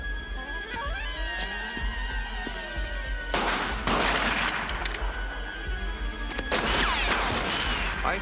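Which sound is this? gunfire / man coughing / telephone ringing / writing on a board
gunfire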